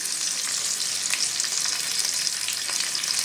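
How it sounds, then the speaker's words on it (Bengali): Frozen small fish, still icy, spit and splatter in hot oil, a loud continuous crackling sizzle with frequent sharp pops and no voices. "এবার মাছগুলো দেওয়াতেও একটু ছিটকাবে কেননা বরফ বরফ হয়ে আছে"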